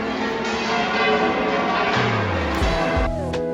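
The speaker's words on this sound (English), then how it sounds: "We could hear and see the bells of the Catedral de Sevilla from where we stood." The church bells of Seville Cathedral ring out, a dense, continuous wash of overlapping metallic tones that is loud and sustained, with no voices.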